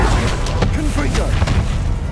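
A Confringo fire spell blasts in the Hogwarts Legacy video game, a loud, booming burst with sharp cracks over a rumbling low roar.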